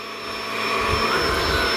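A vacuum cleaner running on a rug with strong suction, giving a loud, steady whooshing roar with a high whine that swells slightly and holds.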